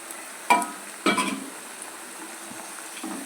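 Onions and eggs in a frying pan are stirred, with a couple of sharp utensil scrapes and knocks against the pan over a low, faint sizzle, then softer stirring sounds.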